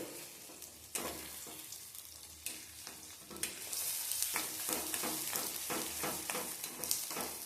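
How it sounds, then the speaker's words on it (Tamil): Shallots, onions and garlic sautéing in a pan for a fenugreek curry, a steady broadband sizzle with sharp utensil scrapes and clinks, busier and louder in the second half, close up with no voices. "சின்ன வெங்காயம், பெரிய வெங்காயம், பூண்டு இதெல்லாம் வதங்கணும்"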